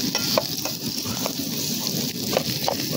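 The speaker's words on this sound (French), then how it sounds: "Donc je passe mes oignons." Onions sauté in a pan with a steady sizzle and the repeated scrape of a utensil stirring them, close and even, without speech.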